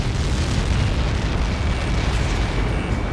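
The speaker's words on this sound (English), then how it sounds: "How many got caught in that explosion?" Helios missile blast in the combat flight game Ace Combat 7, a sustained, heavy rumbling explosion with deep low-end roar filling the whole stretch at steady loudness, no voices.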